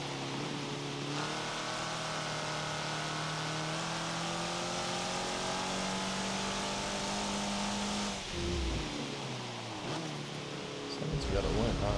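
A Vauxhall race car engine in Forza Motorsport 7 drones steadily at high revs, its pitch holding and shifting slightly before a gear change and a rough transition near the end, loud and continuous with no talk.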